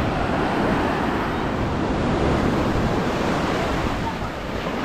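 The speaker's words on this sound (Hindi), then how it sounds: "ये कितनी बड़ी वेव आ रही है।" Sea waves crashing on a beach in Goa, a loud continuous roar of surf and rushing water with wind buffeting the microphone, steady throughout with no clear break.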